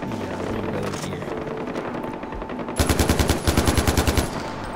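Machine-gun fire aimed at a rhino in the video game Far Cry 4 rattles out in two rapid, loud bursts of evenly spaced shots over steady background game ambience.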